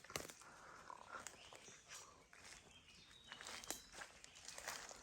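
Footsteps walk outdoors, irregular and faint, with scattered crunching steps and small rustles and no talking.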